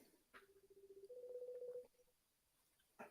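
A faint telephone tone purrs in a pulsing tone on a call line, fading after a couple of seconds, with quiet clicks around it.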